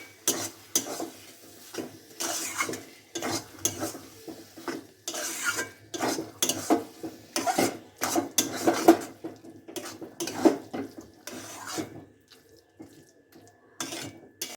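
A spoon scrapes and knocks against a pan while papaya ghonto is stirred with roasted peanuts. The strokes are repeated in irregular clusters and fairly faint, with no voices.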